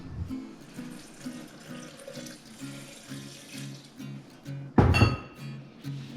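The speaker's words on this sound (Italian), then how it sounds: "su 250 g di mandorle aggiungiamo 250 ml di acqua fredda" Cold water, 250 ml, poured over 250 g of almonds in a kitchen. A steady, pulsing trickle and splash runs throughout, with a sharper, louder splash near the end.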